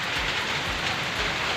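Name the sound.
heavy rain getting stronger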